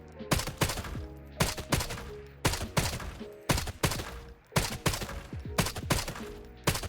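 Rapid gunfire from a weapon in the video game Arena Breakout: Infinite, with about ten sharp, loud shots fired singly and in short bursts at an uneven pace, each ending in a brief ringing tail.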